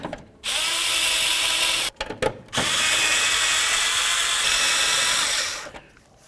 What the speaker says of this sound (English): Let's get our screws in.